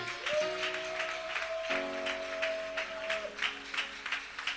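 A church congregation applauds at a French-language worship service, with steady rhythmic clapping throughout, mixed with sustained music tones at moderate level.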